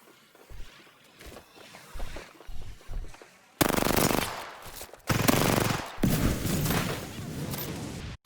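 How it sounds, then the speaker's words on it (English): Gunfire in the video game Apex Legends: a few scattered shots and footsteps at first, then loud, sustained bursts of automatic fire broken by brief gaps, close and dominant. "we see Caustic right here try to peek and shoot down at me"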